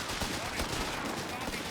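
Machine gun fire in Company of Heroes 3 rattles as a dense, continuous burst amid battlefield noise, moderately loud and close.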